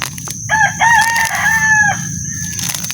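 A rooster crows once, a drawn-out cock-a-doodle-doo rising and holding before trailing off, fairly close, with low background noise and no talking.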